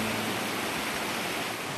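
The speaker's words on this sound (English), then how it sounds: "We're looking at a waterfall on Scott and Howe Creek, which is a series of steps named Wildcat Falls." Water tumbling down Wildcat Falls, a series of stepped drops on Scott and Howe Creek, gives a steady, dense broadband rush that stays loud and even throughout with no voices.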